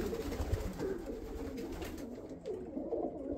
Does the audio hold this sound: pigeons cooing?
yes